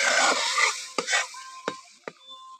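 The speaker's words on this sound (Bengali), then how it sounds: "এবার একটু ভালো করে ফুটিয়ে নেবো।" A curry with tomato sauce boils in a pan while a utensil stirs it: a steady bubbling hiss runs throughout, broken by a few sharp scraping strokes against the pan.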